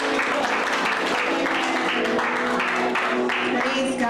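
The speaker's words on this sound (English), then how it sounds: "Let's give a clap offering for" Church congregation giving a clap offering during a youth service, with dense, steady applause from many hands filling the room at a constant level, while sustained tones sit underneath.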